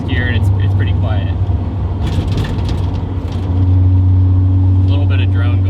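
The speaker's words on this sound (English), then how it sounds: "Drop down into fourth gear and it's pretty quiet." Steady, fairly loud low engine hum from a Datsun 280Z with a Fujitsubo-style muffler cruising in fourth gear, the drone deepening and strengthening toward the end.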